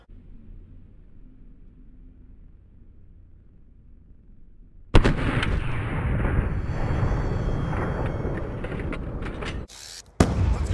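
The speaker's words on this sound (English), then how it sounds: "The sound of the old bouncing Bettys, eh?" A bouncing Betty mine goes off in Call of Duty Black Ops 2: after several seconds of quiet low hum, a sudden loud blast erupts into a long, dense, roaring burst with a sharp metallic ring, cuts out briefly, then returns.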